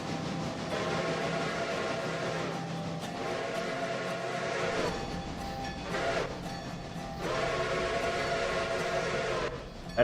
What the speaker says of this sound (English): I think that was the whistle I wanted, but its sound isn't very good.